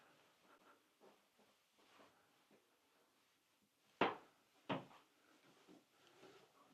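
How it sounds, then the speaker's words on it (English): Two sharp wooden bangs, a closet door slamming shut twice in quick succession in a mountain modern house, cutting through quiet indoor shuffling and faint movement. "This is the door that's slammed."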